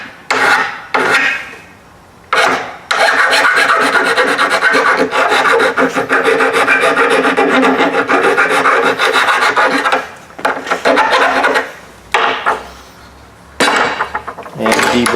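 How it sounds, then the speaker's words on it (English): A file rasps loudly along the edge of a Harbor Freight four-drawer metal tool cart to deburr it, in close, harsh strokes with a long steady run in the middle and short pauses between passes. "And then I'm just going to take a file"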